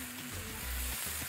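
Chicken and onions fry in a pan with a soft, steady sizzle, faint and close, lasting only a moment with no talking.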